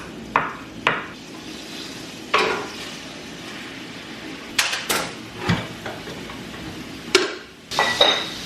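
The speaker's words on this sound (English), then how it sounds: "in that beef fat, I'm going to saute the mushrooms" Mushrooms saute in rendered beef fat with a soft, even sizzle, broken by several sharp clinks and taps of a utensil against the pan at uneven intervals.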